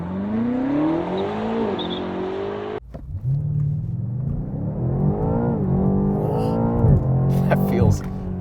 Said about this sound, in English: So I'm just going to stand on the throttle and we'll see what happens.